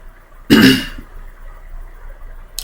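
A single throat clearing, close and fairly loud, lasting about half a second, then quiet room tone with a tiny click near the end.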